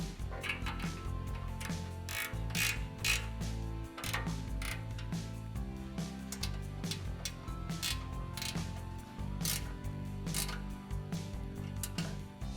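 A ratchet clicks in quick runs as bolts are snugged down on a CBI front bumper for a ZR2 truck, close and fairly loud, with short pauses between strokes.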